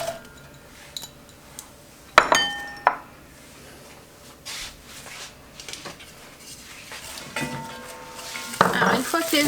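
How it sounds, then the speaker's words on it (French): Minced garlic and onion sizzle in olive oil in a pot, a soft steady frying hiss broken by sharp clinks and knocks of a utensil against metal and glass. "on va y faire revenir l'ail et l'oignon émincés"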